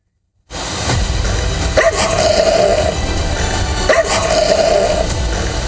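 Stray dogs in a city street in India, barking in two clear bursts at steady spacing over a constant roar of traffic and street noise, fairly near.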